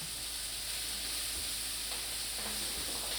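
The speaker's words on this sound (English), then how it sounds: "So I'm going to add my vegetables into the pan here, and they're going to cook for about 3 minutes" Vegetables frying in olive oil in a pan, a steady close sizzle and hiss with faint stirring clicks, no voices.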